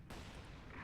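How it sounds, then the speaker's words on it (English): A land mine detonating in a World War II strategy video game, one short, muffled boom that thumps in abruptly and sits fairly faint and distant. "Another mine goes off."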